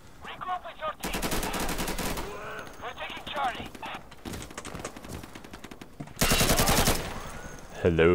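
Automatic gunfire from an AC-556 rifle in the video game Insurgency, loud sustained bursts of rapid shots in several strings, with a quieter stretch between and a final short burst; a voice talks over parts of it.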